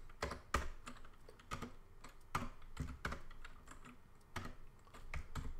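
Quiet, close typing on a computer keyboard, irregular bursts of clicky keystrokes with short pauses between them and no voices.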